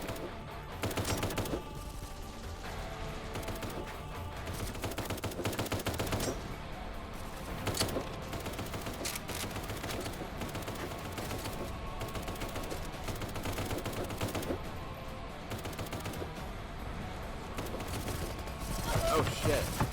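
Rapid bursts of gunfire in the Kinki Spiritual Affairs Bureau video game, repeated clattering shots spread throughout under game sounds and music at moderate level, with a player talking at times.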